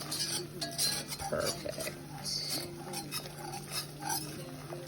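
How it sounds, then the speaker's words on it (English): Whisking a flour mixture in a pot while making chicken and wild rice soup, with steady scraping and clinking of the whisk against the pot, close and continuous, with a brief spoken word. "Great, we're gonna continue to go ahead and whisk that"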